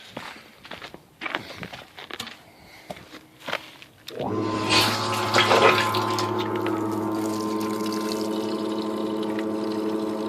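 Water running into a container with soapy water for lawn mower repair, a steady pouring stream that starts after a few seconds of clattering handling noises and continues to the end.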